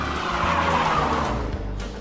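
A new red toy car races and skids, its motor whirring steadily close by with brief squeals of tyre scraping across the surface, loud and unbroken throughout.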